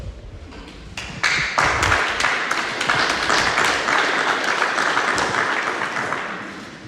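An audience at a county fire prevention and public awareness meeting bursts into applause after a speaker finishes, a few scattered claps swelling into sustained, fairly loud clapping that slowly tapers.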